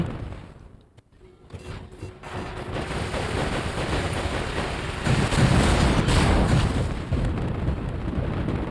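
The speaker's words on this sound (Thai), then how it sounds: "คือแบบยิงอยู่กดยิงอยู่เนี่ย" Robot weapons fire in War Robots, a dense run of gunfire and blasts that starts after a short quiet moment and keeps going loud and steady to the end, with no talk over it.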